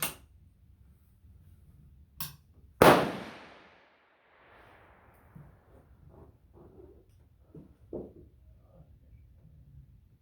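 A Remington rolling block rifle in .50-70 fires a full-case load of 72 grains of Swiss 1.5 black powder as one loud, close shot that rings out and fades, after a small click and before faint handling sounds.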